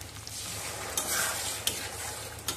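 Potatoes stir-fry with a spice masala in a hot pan, sizzling loudly and steadily as a spoon scrapes and tosses them, with a few sharper clinks scattered through.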